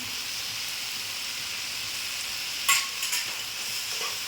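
Fish heads frying in oil for a cabbage curry, giving a steady close sizzle with a few sharper crackles and spatters toward the end.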